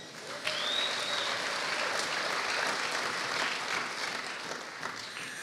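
A church congregation applauds, a dense, steady wash of clapping that holds at a constant level for several seconds and then tapers slightly at the end.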